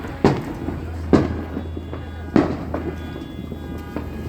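Several sharp firecracker bangs pop at irregular intervals on the Fourth of July, a few seconds apart, over a low steady rumble of distant traffic.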